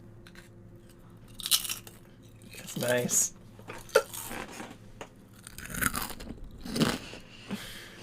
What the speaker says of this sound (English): I got some chips, and I don't know if it's gonna be a problem.